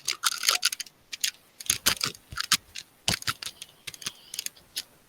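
Rapid keystrokes on a computer keyboard, a close, crisp string of clicks in uneven bursts that runs steadily for several seconds without talk.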